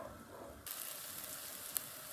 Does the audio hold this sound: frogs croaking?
no